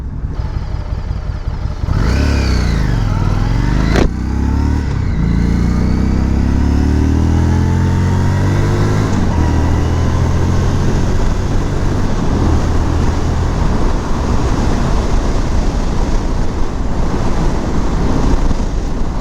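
A 2018 Harley-Davidson Street 500 motorcycle pulls away and accelerates toward the highway, engine rising through gears with sweeping pitch changes, then a loud steady drone mixed with heavy wind rush at speed.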